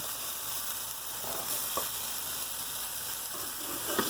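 Tomatoes and garlic roast in a pan, giving a soft, even sizzle that stays fairly quiet and steady with a few faint crackles, heard alone without talk.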